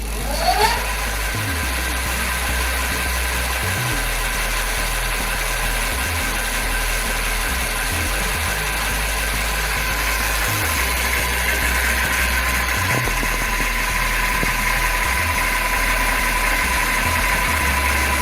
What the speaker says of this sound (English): You'll definitely hear the motor kick in.